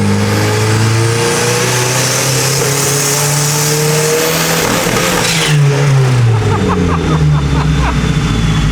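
A turbocharged 1969 sports car engine revs loud and close, sweeping up and down steadily with a harsh mid-range roar, and voices come through underneath.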